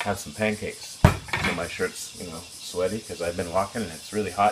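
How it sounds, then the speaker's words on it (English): Cicadas in Japan on a hot summer morning make a steady, faint high buzz in the background while someone talks over it throughout. "You can hear the cicadas in the background."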